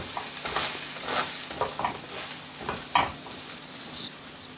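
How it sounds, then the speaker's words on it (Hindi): Egg and bread omelette frying in a pan, a steady close sizzle with scattered crackles and a few soft scrapes as it cooks, no voices. "जो दूसरी तरफ से ब्रेड वाली साइड है उसको भी फ्राई होने दूंगा, पकने दूंगा।"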